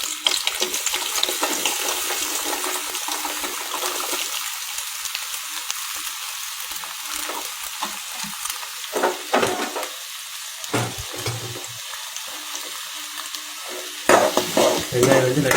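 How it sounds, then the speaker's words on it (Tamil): Onions and garlic fry and sizzle in a pan, a steady crackle with occasional stirring clatters and brief bursts of louder hissing, heard close and alone without talk. "வெங்காயம் வந்து லைட்டாக பச்சை வாசனை போகிற அளவுக்கு நல்லா வதங்கட்டும்."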